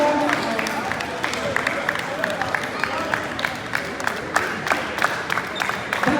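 A crowd at a Rwandan community sports event in Canada claps and cheers in uneven bursts, a lively, close spread of hands with shouting voices mixed through it.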